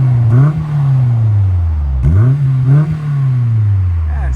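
A 2000 Honda S2000 with a 2.0L engine and an exhaust fitted with Vibrant resonators, idling loudly close by and then giving two sharp revs that rise and settle back.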